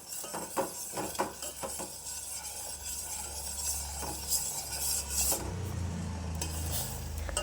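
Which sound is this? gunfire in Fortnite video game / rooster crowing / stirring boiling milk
stirring boiling milk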